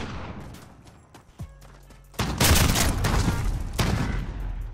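Bursts of video game gunfire from Call of Duty: Modern Warfare, part of a 2v2 private gunfight match, come as sharp cracks, then a dense, loud spell of shooting and booms.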